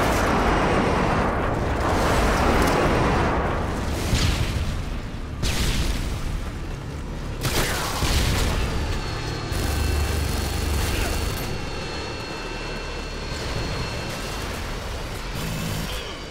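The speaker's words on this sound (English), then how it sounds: "Friendly Harriers inbound." Friendly Harrier jets bomb the Estate map in Modern Warfare 2 during team deathmatch, loud booming explosions rolling one after another over a constant rumble, with a high jet whine emerging toward the end.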